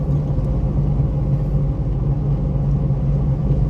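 A shaky Saturn car drives along with a steady, loud, low rumble of engine and road noise heard from inside the cabin, continuous and unchanging.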